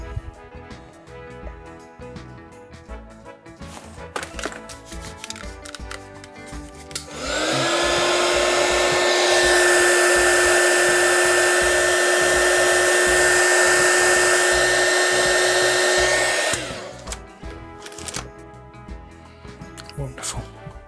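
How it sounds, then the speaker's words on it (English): A heat gun roars on loudly for about ten seconds and then cuts off as it shrinks heat-shrink tubing over wires during a cassette recorder repair. Someone speaks briefly before and after it runs. "let's heat shrink them"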